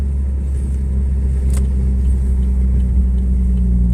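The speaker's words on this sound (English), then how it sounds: "when I tell you this car wants to rip even more once it hits like 50 and better," A second-generation Chevy Cruze fitted with a budget TD025S hybrid turbo accelerates hard, its engine droning loud and steady throughout with a deep rumbling low end.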